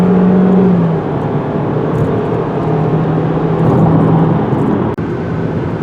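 A 2023 Chevrolet Equinox RS AWD with a 1.5 liter engine and 6-speed automatic accelerates, a steady loud engine drone and road roar holding for several seconds with a low tone shifting in pitch.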